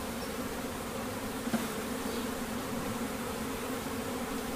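Honey bees hum steadily at an open hive during a CO2 varroa mite check, a soft continuous drone with a brief click partway through.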